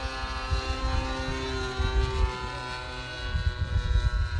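Low-flying propeller airplane over a runway, a steady droning engine with a tonal whine, close and fairly loud, with slight shifts in pitch as it passes.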